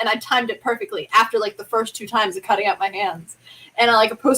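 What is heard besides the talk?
No distinct noise like a dog, phone or traffic.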